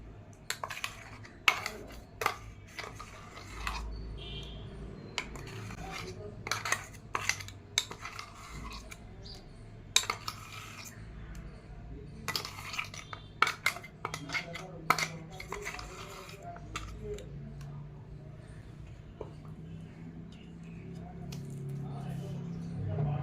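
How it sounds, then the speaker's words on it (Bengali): Katla fish being mixed by hand with a freshly ground spice paste in a bowl, giving soft squishy smears and scattered clinks of a bowl or utensil, close and fairly quiet, with no talking. "এবার আমি মাছের সাথে মশলাটা মিশিয়ে নেব।"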